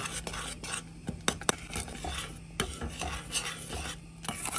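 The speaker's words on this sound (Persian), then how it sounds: "همش میزنیم." A spoon scrapes and clinks around a pot as thick homemade apricot jam is stirred, with irregular knocks and soft bubbling throughout.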